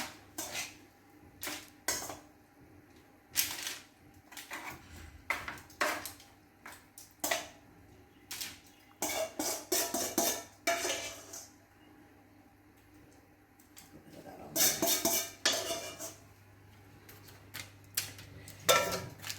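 Metal oven trays clatter and clunk as they go into a hot oven, with a run of sharp, irregular bangs and scrapes spread over the stretch and a low steady oven hum underneath.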